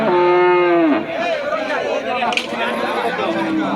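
A pregnant Jersey-cross cow lets out a long, loud moo up close at the Deuhata cattle market, followed by a busy background of chatter and other livestock noises.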